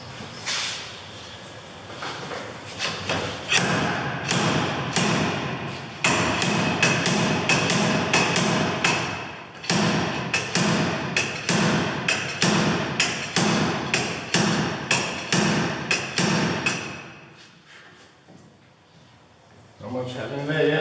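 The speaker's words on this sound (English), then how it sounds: "get the hub puller and get the hub off it" A hub puller works the front wheel hub off a Peugeot 308 during a wheel bearing change, giving rapid, loud, close metallic knocks in dense bursts with short pauses; a voice talks now and then.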